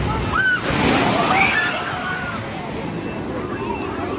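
A boat from a water ride at Kings Island hits the water in a big splashdown, a loud rushing wash of spray that lingers and slowly fades, with excited screams and crowd chatter mixed in.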